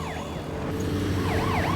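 An ambulance siren sweeps up and down over steady road and engine rumble, its wail fading briefly and then returning stronger.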